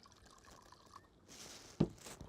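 Water poured for olive loaf batter, a short faint trickle that swells into a brief splashing pour and then settles.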